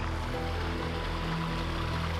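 A water feature with koi in a Japanese garden in Olympia, Washington: a steady rushing, burbling flow of falling water, close and continuous with no pauses and no voices.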